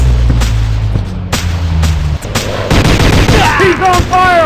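Rapid gunfire from a video game, dense bursts of shots over a low rumbling engine-like drone, loud and close, with sharper pops and a rising whine toward the end.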